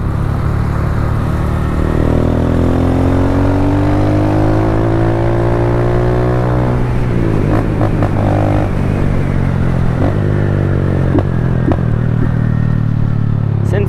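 A Yamaha Factor 150 motorcycle engine idles with a steady low drone, then revs and falls back, with people talking over it throughout.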